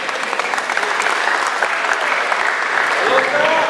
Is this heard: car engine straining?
no